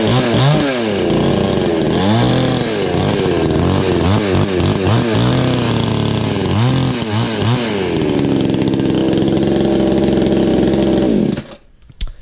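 A Chinese-made chainsaw engine runs steadily after a warm restart without choke, loud and close, its pitch repeatedly revving up and dropping back before cutting off near the end.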